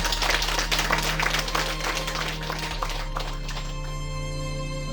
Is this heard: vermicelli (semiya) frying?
no